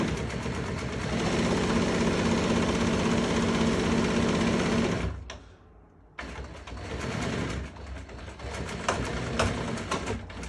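Sewing machine stitching AutoGlide rock and roll camper bed upholstery fabric, a steady loud motor whir running continuously, stopping briefly for about a second, then resuming in shorter bursts.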